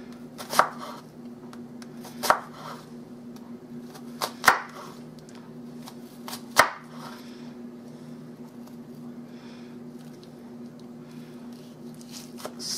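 A knife slicing two small Vidalia onions on a board, a handful of sharp isolated cuts spaced a couple of seconds apart over a quiet steady hum, no talking.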